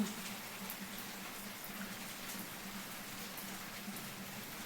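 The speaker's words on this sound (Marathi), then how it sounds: "असा पाऊस जोरात चालू आहे ना" Heavy rain patters on surfaces, a dense, even hiss that continues without pause, moderately distant and fairly soft.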